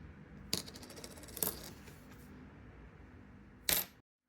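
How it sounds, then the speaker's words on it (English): Copper wheat pennies drop onto a hard surface in three separate bright clinks spread over a few seconds, with faint steady background noise between them. "But here's wheat penny number 4."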